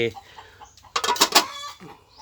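Chickens at an outdoor cooking spot cluck in a quick burst of several sharp calls midway, fairly close, with quieter rustling and background sounds around them.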